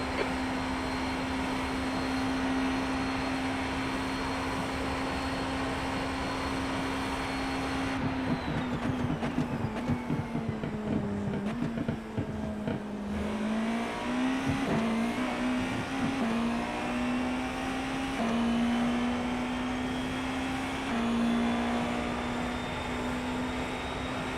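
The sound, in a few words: GTP race car engine in iRacing video game at Le Mans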